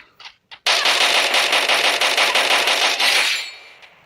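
An Uzi submachine gun fires a sustained automatic burst in a video game, loud and close, a rapid rattling stream of shots lasting about three seconds after a couple of short clicks, with no talking.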